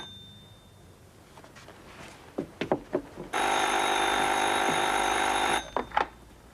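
A telephone bell rings steadily for about two seconds in a home interior, loud and continuous, framed by a few sharp knocks or footsteps before and after.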